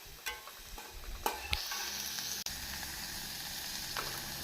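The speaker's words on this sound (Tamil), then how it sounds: "வெங்காயம் பொன்னிறமாக வதங்கவும் நாம் பீன்ஸ் கேரட்டை போட்டு விடலாம்" Onions sautéing in a frying pan for a beans and carrot poriyal give a steady close sizzle, with a few stirring clicks and a brief scrape over the constant frying hiss.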